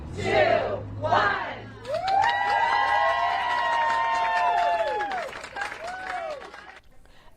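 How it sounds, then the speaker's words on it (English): People cheer and clap as a new general store in Pacific Palisades opens its doors, a burst of crowd whoops and applause following a short countdown of voices. "Applause today as Pali Trading Post opened its doors"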